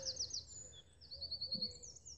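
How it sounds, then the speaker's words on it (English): Birds sing outdoors, with high, thin chirps and trilling phrases, fairly close and clear over a low, quiet background. "As you can hear, all the birds are singing."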